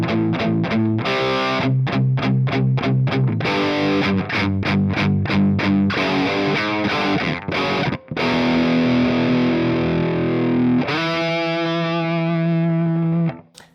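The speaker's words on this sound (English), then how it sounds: "I love the sound of that pickup." A 2017 Gibson Les Paul Classic High Performance electric guitar on its bridge pickup plays with heavy distortion. Chugging, choppy chords build into sustained ringing chords, loud and close, with no talk.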